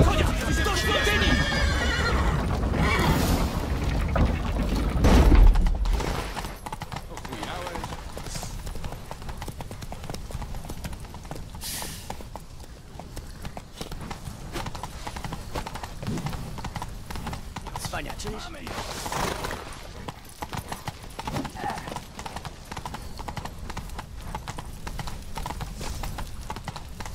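Horse hooves clip-clop at a fast gallop in The Witcher 3, a steady rhythmic pounding with a neigh near the start, running continuously under game ambience and music.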